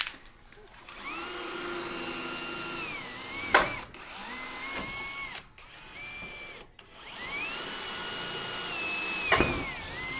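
Electric drill boring holes through the wall of a GMC motorhome, high whining motor bursts that rise and fall in pitch, several separate runs with brief pauses and sharp clunks between them, close and fairly loud.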